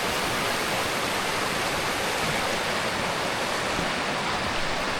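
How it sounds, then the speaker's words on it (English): A waterfall stream roaring steadily with dense, hissing rush of running water, loud and unbroken from start to finish with no voices. "I love the sound of running water."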